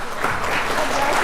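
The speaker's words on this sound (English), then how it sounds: "how about we get our coaches up here too and give them a round of applause?" Audience applause for coaches at a council meeting, a brief burst of dense, loud clapping from a packed room, with no talk over it.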